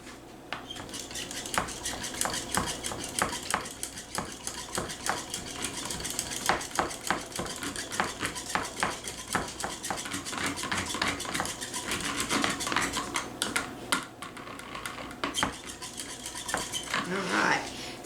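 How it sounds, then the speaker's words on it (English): An egg is beaten with a Dollar Tree whisk in a bowl, a rapid, steady run of close metallic clicks and scrapes lasting throughout. "I'm going to add that and whisk it up too."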